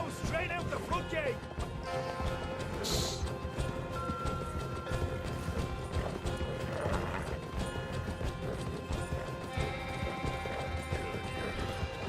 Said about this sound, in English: Shitty horse.